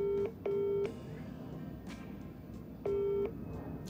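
A telephone call being placed: two-tone dialing beeps in three steady bursts separated by short pauses, loud and close, with a quiet room hum between them.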